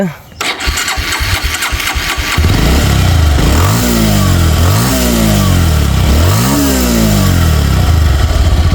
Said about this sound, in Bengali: স্টার্ট করে সাউন্ড কন্ডিশন দেখালাম